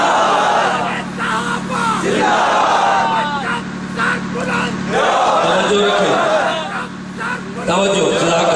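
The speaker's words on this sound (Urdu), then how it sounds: "لیکن نعرہ لگائیں تو پھر مردوں والا لگائیں نا" A large crowd at a Deobandi religious gathering roars chanted slogans in loud, surging waves of many voices, with a leader's voice calling out between the massed responses.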